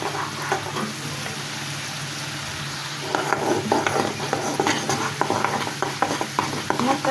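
Spice paste with salt, cumin powder and coriander powder being stirred and fried in a pan, with a steady sizzle and repeated scraping strokes of the spoon that grow busier partway through.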